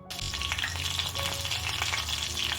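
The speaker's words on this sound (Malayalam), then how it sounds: "അര ടീസ്പൂൺ കടുക് ഇട്ട് പൊട്ടിക്കുക" Mustard seeds spluttering in hot oil for a toor dal tomato curry: loud, dense sizzling crackle with rapid pops, steady throughout with no talking.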